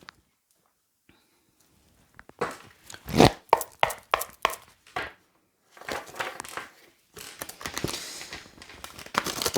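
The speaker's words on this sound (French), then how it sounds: "Allez, on va sortir quelques cartes pour vous aussi avec l'oracle" Oracle cards from the Voie Stellaire deck being shuffled and drawn, giving bursts of crisp papery riffling and slapping in several clustered runs after a quiet start, close and fairly loud.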